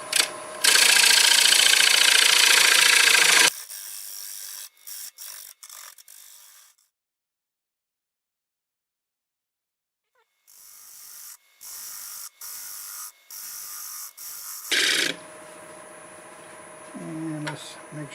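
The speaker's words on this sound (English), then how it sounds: "let's get a 1/2-inch bowl gouge, and we'll just start cutting most of it away" A half-inch bowl gouge cuts into a big walnut slab spinning on a wood lathe, a loud hissing scrape in bursts broken by brief catches and a near-silent pause.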